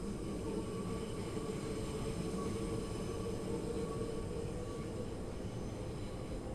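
A Class 710 electric train in Train Sim World 5 runs at steady speed, with a continuous rolling rumble and a faint motor whine and no talk.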